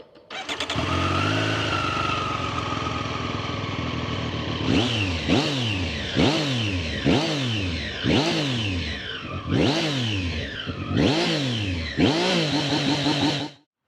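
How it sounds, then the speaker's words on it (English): A Triumph Street Triple 765 RS motorcycle engine fires up and idles, then is revved repeatedly in neutral, each rev rising sharply and bouncing off the limiter in a rhythmic series of about eight pulses. "in neutral you can only really rev it to that and it will just bounce off the rev limiter."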